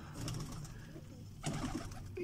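Pigeons coo softly and repeatedly in a quiet space, low and faint.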